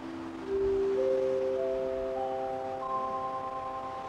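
Vibraphone notes struck one after another with the sustain pedal down and left ringing, building into a sustained, shimmering chord that holds steady to the end.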